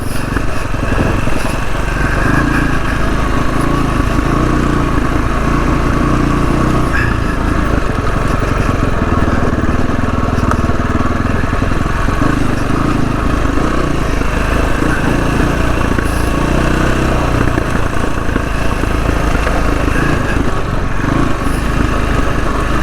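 An SWM RS500R motorcycle engine runs loud and close throughout on country roads, with steady engine drone and occasional sharp crackles and pops from the exhaust under engine braking.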